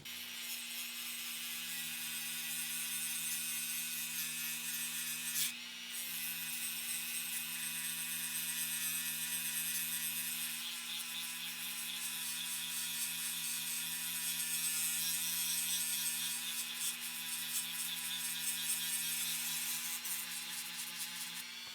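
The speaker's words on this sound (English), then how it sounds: "I'm going to use an 80 grit flapper wheel. And we'll just buzz this and get as close as we can." An 80-grit flap wheel grinds down hardened JB Weld epoxy on a 1:64 scale model crew cab truck, a steady continuous high-pitched whirring buzz held close and loud for the whole stretch, with one brief dip partway through.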